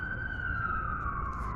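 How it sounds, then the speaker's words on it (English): A single wailing ambulance siren sweeps slowly downward in pitch, sounding moderately distant over steady low outdoor rumble. "sirens in the background, ambulances."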